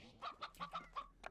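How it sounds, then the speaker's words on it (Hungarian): A hen in the video game Slime Rancher gives a quick run of five or six soft clucks in a steady rhythm, faint and on its own. "Ez egy sima hen."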